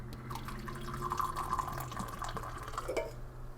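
Water is poured in a thin, steady trickle into a container for a Belarusian 24-hour ration meal, faint and close with small splashy drips, and no talking.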